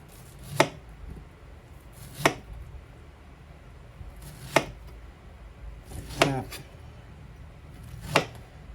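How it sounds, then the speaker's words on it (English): A knife slices through an overripe pineapple on a cutting board, giving five sharp, evenly spaced chops with quiet gaps between them. "So you're just going to cut them into slices."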